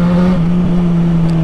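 A Jaguar XJ6 with a modified exhaust drones loudly and steadily at close range, holding an even, humming engine tone throughout with no talk.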